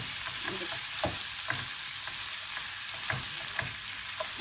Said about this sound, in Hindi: आपने चम्मच से ना इनको बीच में मिक्स कर लेना आलूओं को